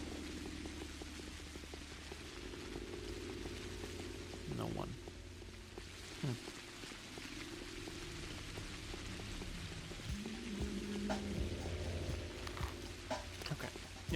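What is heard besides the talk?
rain falling in video game Pathologic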